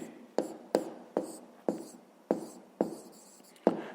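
A pen writes out a number sequence in a fifth-grade maths exercise, giving about nine short, regular scratchy strokes, each a sharp tap that fades, close and quiet.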